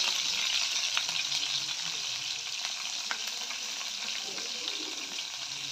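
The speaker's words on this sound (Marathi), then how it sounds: "त्याच्यानंतर आपण त्याच्यात मिरचीचे जे छोटे तुकडे केले ते पण ॲड करते" Cumin and small green chilli pieces frying in hot oil for a tempering, a steady dense sizzle and crackle running throughout at close range, with no talking.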